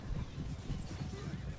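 Horses gallop in Total War: Warhammer battle gameplay, a steady rumble of hoofbeats with faint whinnies, fairly quiet and continuous under a busy game soundscape.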